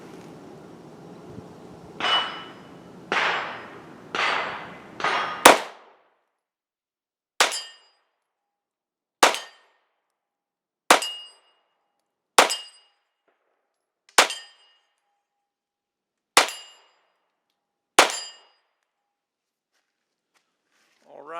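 A Polymer 80 Glock 19 pistol fired at steel targets from 21 yards, with about a dozen sharp metallic clangs: a quick cluster first, then evenly spaced single hits separated by silence.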